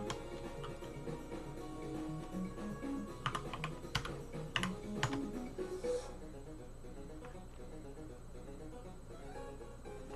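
A command is typed into a Kali Linux terminal on a computer keyboard, a close run of soft key clicks and a few louder taps for about six seconds, then near silence.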